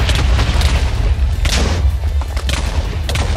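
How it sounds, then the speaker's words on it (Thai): Blocks struck in modded Minecraft set off a series of loud, deep booms, several blasts in quick succession over a low rumbling background. "ตีเป็นระเบิดตีเป็นระเบิด"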